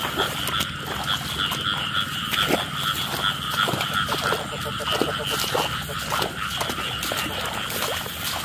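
Frogs croak at night at the start of the rainy season, breeding in pairs: a dense, continuous chorus of rapid, rasping calls close by, with a voice faintly underneath.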